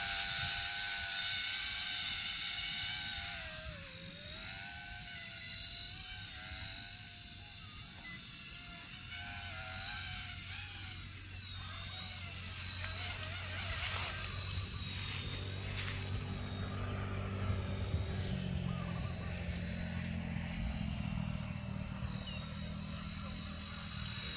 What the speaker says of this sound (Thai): กด take off นะฮะปึ๊บ นี่กดปุ๊บมันก็จะขึ้นเลย